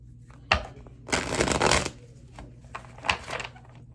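Tarot cards being shuffled by hand, a sharp riffle followed by a longer dense flutter of cards and a few softer shuffles after, close and clear with no talking.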